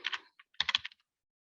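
Fingers type on a computer keyboard in two short bursts of quick, crisp key clicks, close and fairly loud, with a brief gap between them and silence after.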